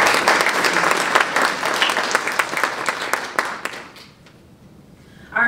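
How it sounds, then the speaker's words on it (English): An audience at a regional high school poetry recitation competition applauds, steady clapping for several seconds that tapers off before a voice begins speaking. "One more round of applause for Savannah."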